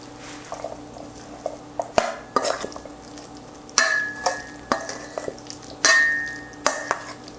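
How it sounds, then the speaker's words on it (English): Avocado and chicken salad with mayonnaise being stirred in a bowl for a Peruvian dish, close up, with irregular wet scraping and clinking strokes, several sharper knocks of the utensil against the bowl, and no talking. "And now for the fun part, which is stirring everything together."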